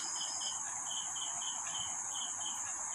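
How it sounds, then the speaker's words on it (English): A cricket chirps in steady rhythmic pulses over a constant high insect drone, outdoors with no voices. "nature's music can be heard, HEARD, heard, through the voice of the tiny cricket"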